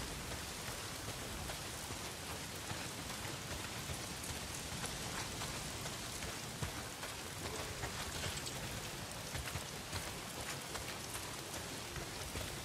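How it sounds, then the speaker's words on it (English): Heavy rain pours steadily in the video game Days Gone, a loud unbroken wash of hiss and spatter on surfaces that holds constant throughout with no voices. "not if it's pissing down rain"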